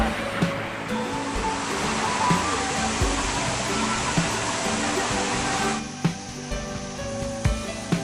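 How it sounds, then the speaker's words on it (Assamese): Champawati waterfall in Assam pours down in a steady, loud, close roar of rushing water, with a person speaking over it. "জলপ্ৰপাতটো চাই খুব ভাল লাগিছে"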